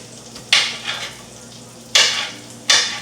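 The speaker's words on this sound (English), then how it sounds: "I put about maybe a little less than half a stick of butter in there while I go to saute these" Onions and garlic saute in a pan of butter, giving a soft continuous sizzle broken by three sharper bursts of frying hiss as the food is stirred, close and alone without talk.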